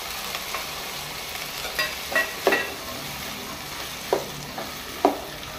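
Green peas frying with mixed vegetables in a pan for a Goan veg korma, a continuous soft sizzle under occasional louder spatula scrapes and knocks, close and without speech.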